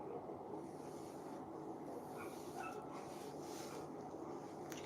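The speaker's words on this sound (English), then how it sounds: "One sounds much like a chihuahua for me" Hounds barking and whimpering, one with a small, yappy voice like a chihuahua. The calls come in brief bursts over a steady background noise.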